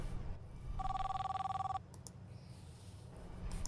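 Electronic telephone ringtone in the Popgoes horror video game, a steady trilling ring lasting about a second over low background hum, with no speech.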